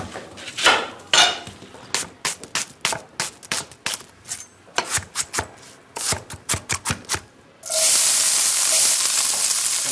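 Finely chopped garlic and onion hit a hot pan for an Italian sofrito, bursting into a loud, steady close sizzle after a run of sharp metal utensil clinks and clatters.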